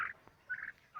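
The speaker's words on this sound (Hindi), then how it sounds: "हाय बोल दो टर्की, हाय बोल दो।" A pet turkey gobbles in short rapid bursts, three quick calls close by with brief gaps between them.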